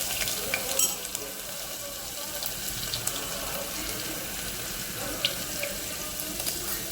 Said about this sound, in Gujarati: પછી વાટેલું લસણ અને જીરું એ પણ એડ કરી દઈશું।